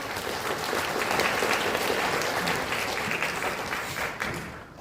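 An audience at a Basic Income Party legislator's report meeting in Ansan claps in a thick, sustained burst of applause that stays loud and even, then trails away quickly at the end.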